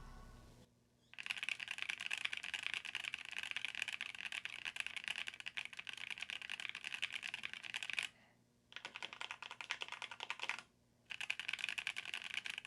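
Steady fast typing on a Keychron Q2 mechanical keyboard with an aluminum plate, dense clacking keystrokes with two short pauses, close and fairly quiet with no talking.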